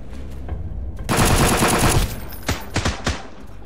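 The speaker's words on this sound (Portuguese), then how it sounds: "Quem tá atirando ainda?" Gunfire in the survival video game Sunkenland: a loud sustained burst of automatic fire, then several sharp separate shots trailing off at close to mid distance.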